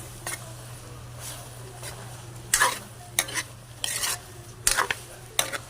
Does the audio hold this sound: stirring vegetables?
yes